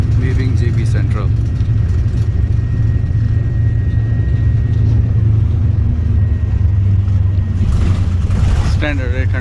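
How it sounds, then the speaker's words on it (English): Steady low engine rumble and road noise from inside an air-conditioned bus travelling between Johor Bahru and Senai Airport in Malaysia, loud and continuous throughout with a faint hum and occasional rattles. "Standard air conditioned bus, comfortable."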